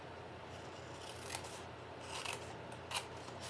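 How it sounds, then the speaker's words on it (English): Scissors snip through the corner of a paper envelope being made into a Halloween fold gift pouch: a few quiet, close cuts with a soft rasp, heard alone over faint room hiss. "Okay, and let's cut this one off."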